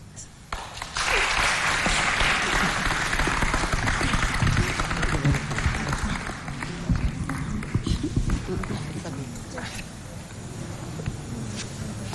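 Audience applause bursts out in a studio hall during an emotional surprise on a French-language television show, a dense roar of clapping that swells quickly, holds, then tapers to scattered claps, with voices mixed in.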